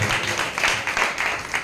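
Applause from a church congregation during a Telugu sermon, a steady dense patter of many hands clapping together for under two seconds, moderately loud with no talking over it.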